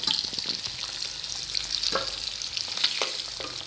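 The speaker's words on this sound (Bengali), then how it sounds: "ডিমটা আমার ভাজা হয়ে গেছে," Eggs for an egg curry fry in hot oil in a pan, giving a steady, close crackling sizzle with occasional sharper pops and faint scrapes. No one talks.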